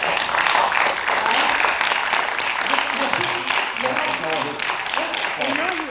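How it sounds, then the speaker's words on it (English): Audience at a film festival panel on Arkansas actors breaks into a round of applause, loud and dense at first, then continuing while several voices talk and call out over the clapping. "I think that deserves a round of applause."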